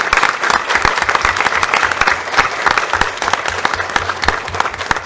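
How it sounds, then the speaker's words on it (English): Clapping breaks out from those attending a board of education meeting for the students presented, a lively round of individual claps close by that carries on unevenly with no speech over it. "if we can give them a round of applause"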